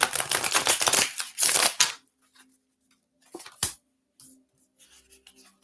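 Oracle cards are shuffled briskly for a couple of seconds with crisp riffling, followed by a few quieter handling taps and rustles in near silence.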